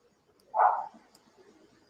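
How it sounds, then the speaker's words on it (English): A dog barks once in night-time security footage, a single short faint bark followed by quiet low background hum. "you'll hear a dog bark"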